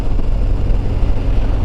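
A new motorcycle's engine runs at a steady, loud idle just after starting, a continuous low rumble with wind buffeting the microphone and no one talking.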